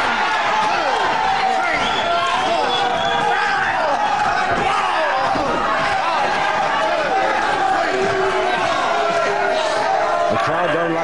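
A wrestling crowd at a bout between Mick McManus and Catweazle roars and jeers in disapproval, a dense, continuous hall din with shouts and whistles rising throughout, and a commentator talking over it.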